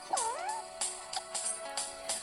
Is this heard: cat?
yes